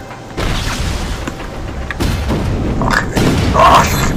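An explosion in the video game Just Cause 3: heavy, booming thuds rumble across the clip, with a louder blast swelling near the end, over steady game noise.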